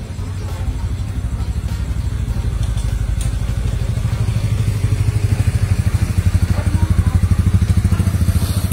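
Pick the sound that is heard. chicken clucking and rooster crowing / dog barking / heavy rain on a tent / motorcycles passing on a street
motorcycles passing on a street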